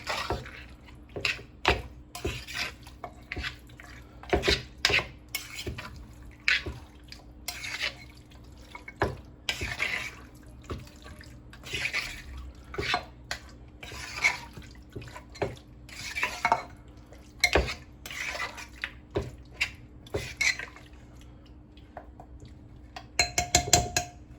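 Mutton being stirred with salt, yogurt and red chili in a cooking pot, giving repeated clinks and scrapes of a spoon against the pot in an uneven rhythm, close by with no talking.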